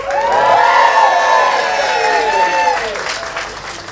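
A studio audience cheers and applauds for Louisa as a contender to win the day's shooting, a loud swell of whoops and shouts that peaks early and slowly fades.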